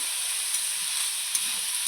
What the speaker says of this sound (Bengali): এখন এটাকে ভালো করে ভেজে নিই